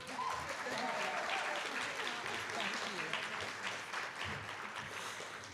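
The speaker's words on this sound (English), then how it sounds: "Please join me in a round of applause for these extraordinary educators" Sustained applause fills a hall at a teacher of the year awards ceremony, an even wash of many hands clapping for educators from a sizable audience, steady throughout with scattered voices underneath.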